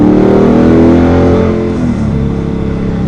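Car tyres spinning on Nitto NT555 G2 tyres, a loud, close engine revving hard with a rising then easing whine as the wheels break traction, continuous for a few seconds.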